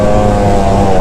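A Yamaha YZ250 two-stroke dirt bike engine drones loud and steady at high revs, a close, continuous buzzing roar with no break through the short moment.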